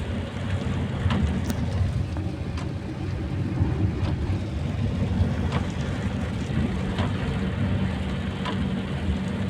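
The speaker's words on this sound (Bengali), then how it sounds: "ঘোরা ঘোরা ফোঁটা পড়তেছে" Rain patters steadily on a car at night during a drive, a dense, even wash of drops with a low road and engine rumble beneath, occasional sharper taps standing out over the continuous hiss.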